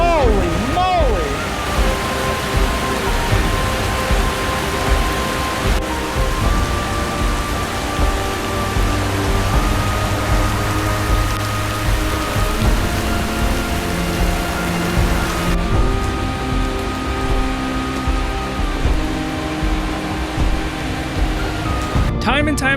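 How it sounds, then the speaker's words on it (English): Heavy rain pours down on an outdoor building site where a hut is being built, a dense, steady roar with rumbling thunder underneath, close and loud throughout. "while the rain thunders down"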